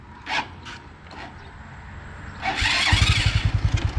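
A motorcycle engine cranks and catches, then settles into a loud, rapid chugging idle after a few quieter mechanical sounds.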